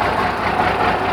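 Mercedes-Benz 1519 truck diesel engine running steadily with a deep, continuous rumble, close and loud, throttle held slightly up rather than sharply revved, no talking over it.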